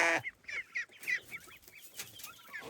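Guinea fowl and other young poultry call in an aviary in quick, scratchy bursts at close range, fairly faint, with no talk over them.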